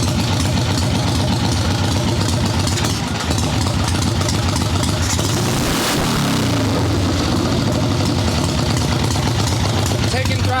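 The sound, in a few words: chopper motorcycle engine idling while warming up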